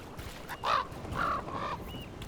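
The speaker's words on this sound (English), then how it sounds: "Damn birds." A bird in Dragon Age: The Veilguard caws three times in a slow, uneven sequence, harsh and fairly close, over a soft ambient bed with no talk.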